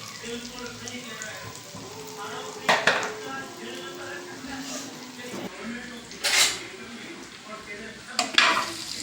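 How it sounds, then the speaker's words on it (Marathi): Okra (bhendi) frying gently in oil in a pan over low gas gives a soft, steady sizzle, with a few louder utensil scrapes and clinks from stirring; quiet overall. "भेंडी फ्राय करून घ्यायचं ते गॅस स्लोमध्ये ठेवायचे"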